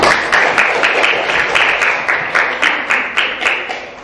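A classroom group applauds a student presentation group with close, dense clapping that is loud and steady throughout, then tapers slightly at the end.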